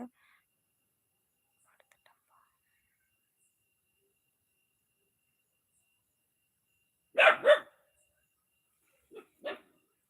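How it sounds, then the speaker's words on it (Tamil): A dog barks outside at night in two quick double barks, a few seconds apart, against an otherwise near-silent dark backdrop with a few faint murmurs. "எதுக்கு குலைக்குது நாய்"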